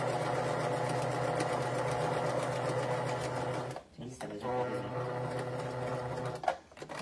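A sewing machine runs steadily at close range, zigzag stitching fabric for a cloth face mask, a fast even rattling hum that stops briefly near the middle, restarts, then halts with a click.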